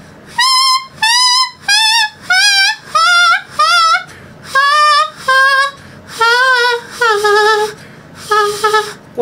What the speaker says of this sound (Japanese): こういうふうにね、1オクターブ以上出るんですよ。